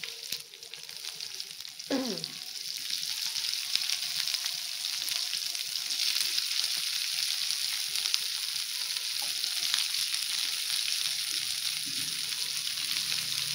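Cauliflower frying in hot oil for singara filling, a loud continuous sizzle with occasional stirring clinks and scrapes, close up and steady with no talking.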